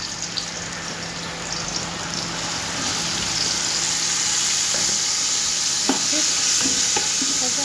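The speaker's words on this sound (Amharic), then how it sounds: "ነጭ ሽንኩርቱን እጨምራለሁ።" Garlic frying in a pan for a fish dish, a steady dense sizzle with a few light stirring knocks toward the end, close and continuous.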